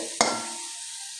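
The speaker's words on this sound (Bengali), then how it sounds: "দুই থেকে তিন মিনিট শুকনো অবস্থায় ভাজা ভাজা করে নিলাম নারকলগুলো" Grated coconut dry-roasts in a pan, with a single quick scraping stir followed by a faint, fading hiss.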